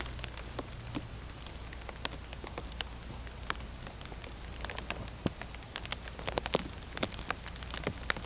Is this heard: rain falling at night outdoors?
yes